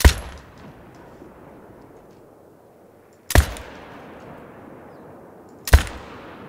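.308 rifle shots in the hunting game theHunter: Call of the Wild, three sharp loud cracks spaced a few seconds apart, each trailing off in a long fading echo over quiet surroundings.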